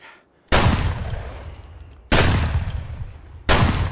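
Three loud, close gunshot blasts ring out in Escape from Tarkov, fired from behind the player, each sharp crack followed by a long decaying tail, spaced unevenly about a second and a half apart.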